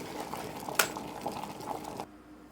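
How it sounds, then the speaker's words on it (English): Water at a rolling boil, a steady bubbling and gurgling close by, with one sharp clink partway through before the sound cuts off abruptly near the end. "we're now at a rolling boil"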